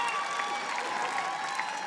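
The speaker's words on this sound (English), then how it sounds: "clap as I button up my suit coat." A stand-up comedy club audience claps for a comedian leaving the stage, dense and steady applause from a crowd at moderate distance, with faint murmurs mixed in.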